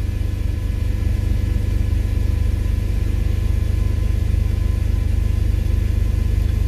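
Car engine idling steadily after a fuel sync, settling near 1000 rpm, a loud continuous low rumble close to the microphone with no talking.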